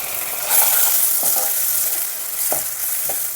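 Onions frying in a pan for a spicy tomato chutney, a loud continuous sizzle with occasional spoon scrapes and stirring knocks, no voices.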